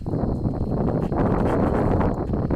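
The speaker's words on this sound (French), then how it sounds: "le vent se met de la partie, comme vous allez pouvoir entendre" Steady wind buffets the microphone on a golf course, a continuous low rushing roar with faint rustling that holds level throughout, with no voices heard.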